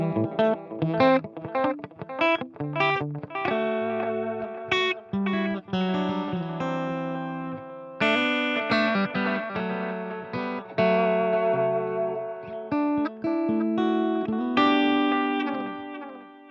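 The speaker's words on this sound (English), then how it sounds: "if you just want your basic delay, then quarter note mode is your friend" A Wampler Ethereal reverb/delay pedal set to basic quarter-note delay, on an electric guitar playing a melodic line whose notes repeat in echoes, steady and fairly loud with no voices.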